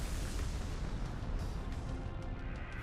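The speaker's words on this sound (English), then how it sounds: "Tail beast bomb!" A Tailed Beast Bomb blast in Naruto Storm 4 roars as a sustained, dense, booming rumble that stays loud and steady throughout, like continuous heavy artillery with no pauses.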